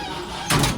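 A door shuts with a single short thud and rattle partway through, after a quiet stretch of faint background hum.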